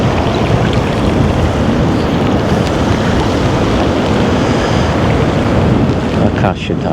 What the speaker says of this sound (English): Ooh, that wind is brutal.